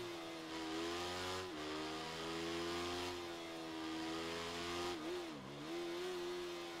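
A small Moto3 racing motorcycle engine in a racing video game drones at a high, steady pitch, the revs dipping briefly and climbing again, with no talking.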